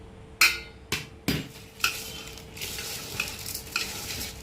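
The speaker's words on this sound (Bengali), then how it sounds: "এবার আমি এটাকে চালটা ভালো করে মেখে নেব" Rice is worked in a pan with ghee, whole spices, salt and turmeric: a handful of sharp spoon-on-metal knocks and scrapes over a faint sizzle, close up, with no talking.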